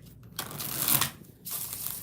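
Tarot cards riffled and shuffled by hand in two quick bursts, crisp papery flutter close to the ear, with a brief pause between them.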